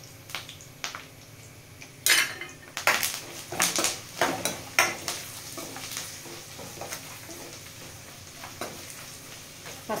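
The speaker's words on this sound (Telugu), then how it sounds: "పసుపు వేసుకొని కలుపుకుందాం ఇట్లా స్లోగా" Puffed rice (murmure) being stirred with turmeric in a pan for a spicy Telugu snack, giving dry scraping and rustling clatter that starts after about two seconds and comes in close, uneven bursts.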